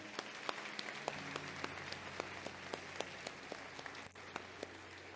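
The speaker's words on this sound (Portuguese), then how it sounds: "Uma salva de palmas para Jesus, gente." A church congregation applauds together, a dense, sustained burst of many hands clapping with scattered sharper claps standing out, close and filling the room.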